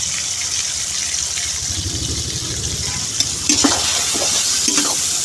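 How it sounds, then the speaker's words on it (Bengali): Shrimp frying in a pan with chopped onion, garlic and green chili for a Bengali Malabar spinach dish, a steady close sizzle with stirring and scraping toward the end, no talk. "পেঁয়াজ মরিচ রসুন টসুন দিয়ে চিংড়ি মাছটা যখন এরকম লাল করে ভাজা হয়ে যাবে"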